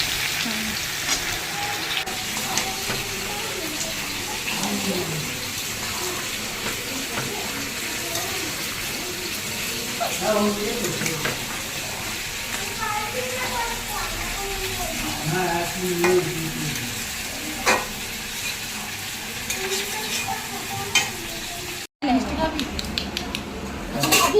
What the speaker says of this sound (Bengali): আর এদিকে পটল চিংড়িটা করবো বলে এদিকে এই পটলটা ভাজা হচ্ছে।